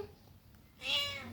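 A stray cat visiting a house's front porch gives one clear, fairly close meow after a second of near quiet.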